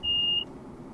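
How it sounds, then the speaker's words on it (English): A single short electronic beep sounds in a train cab in the video game Train Simulator 2015, a clear steady tone lasting under half a second over a quiet low hum. "I don't know what that beep beep was"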